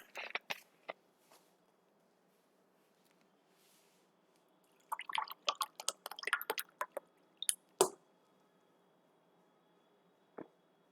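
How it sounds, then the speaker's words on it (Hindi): Someone drinks water in quiet, scattered bursts of soft sips, gulps and swallowing, close by, with silent gaps between them. "पानी पी लें थोड़ा।"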